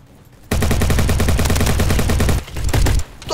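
Rapid automatic rifle fire from an upgraded gun in the Roblox shooter Bad Business, a loud, dense burst lasting nearly two seconds, then a short pause and a few more shots.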